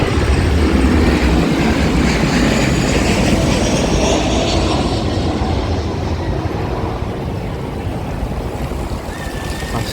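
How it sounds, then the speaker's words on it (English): A jet aircraft on the Vancouver airport flight path passes overhead under a clear sky, a loud broad rumbling roar that is strongest at first and slowly fades, with no talking. "So you might hear an aircraft go overhead in a second."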